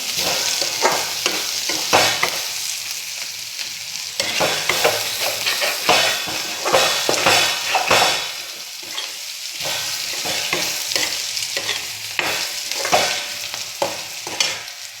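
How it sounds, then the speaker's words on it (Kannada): Onion, green chilli, coriander and curry leaf tempering fries in a pan, a steady close sizzle broken by repeated scraping and stirring clatter throughout, with no talking. "ಎಲ್ಲ ಒಗ್ಗರಣೆ ಚೆನ್ನಾಗಿ ಬೆಂದಿದೆ"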